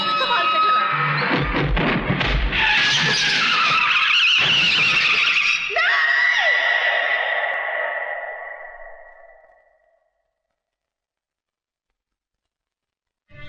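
A car in a film brakes hard and skids, a long loud tire squeal that rises and then fades away over several seconds, ending in quiet.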